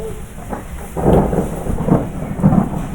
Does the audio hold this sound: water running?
no